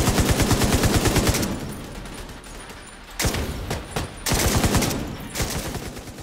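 Rapid automatic gunfire rattles loudly in The Division 2, breaks off, then resumes in heavy bursts with booming blasts mixed in, like intense game combat.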